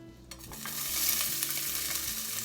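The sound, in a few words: chopped onions frying in olive oil in a pot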